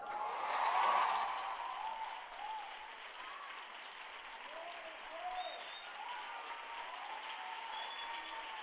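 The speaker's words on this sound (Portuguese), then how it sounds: "Mais palmas, gente." Church congregation at a Sunday celebration service applauding, a swell of clapping that fades into softer sustained claps with faint voices and cheers in the hall.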